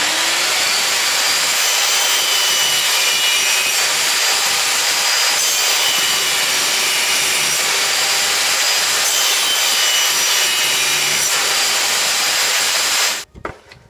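A VEVOR 1800W table saw rips through laminate floor panels, a loud continuous whining cut held steadily for about thirteen seconds before the blade is cut off abruptly at the end.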